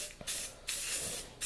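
Blue aerosol spray paint hisses from a can in two long bursts, close and steady, with a short click-like sound before the first burst and a brief pause between them.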